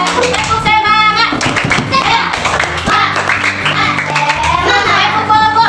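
A fourth-grade class of children claps in a brisk, rhythmic pattern while chanting together, sharp bursts of hand claps alternating with their loud, close voices.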